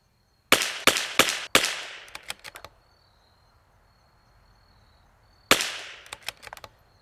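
An air rifle fitted with an L3I .457 drop-in barrel fires a quick string of four loud sharp shots, followed by fainter clatters and echoes, then a pause before another shot and more clatter, with no talk.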